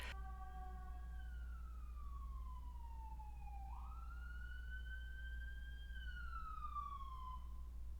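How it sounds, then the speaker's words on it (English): A siren wails in long, sweeping rises and falls, somewhat distant, over a low steady rumble with no voices. "those sirens just happened to hit at exactly the right time"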